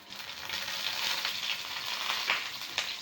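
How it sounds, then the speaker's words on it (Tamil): Dried red chilies, urad dal, cumin and mustard seeds fry in hot oil, giving a steady close hiss and crackle with a few sharper pops and no voices. "காஞ்ச மிளகாய் பொரியுது"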